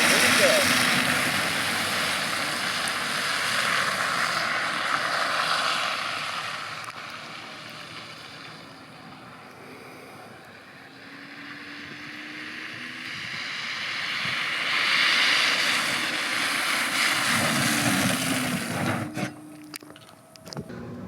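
Electric Smart car pulling out and accelerating at wide open power on a snowy road in Colorado with traction control on: a steady broadband rush of tire and wind noise that swells, eases and swells again, with no engine roar.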